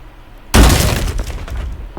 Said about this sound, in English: I'm gonna break the glass right here and enter right away